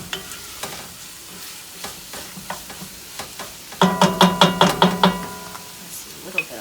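Small diced, peeled and seeded tomato concassé sizzles in a pot of chicken noodle soup base while a spoon stirs it, a run of quick, close scraping strokes building to a louder burst of rhythmic stirring near the end.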